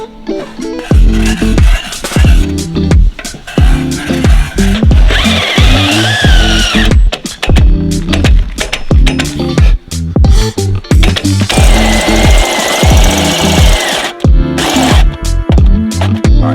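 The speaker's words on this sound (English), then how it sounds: "So let's drill some holes" A power drill whines and bites in repeated loud bursts, drilling holes in a Porsche 911, with rising pitch during longer runs, amid clattering and handling noise close by.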